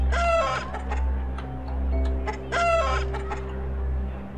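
A chicken clucks and crows in the video game Doom & Destiny, two bursts of sharp bright calls over a steady low drone of game music, close and clear.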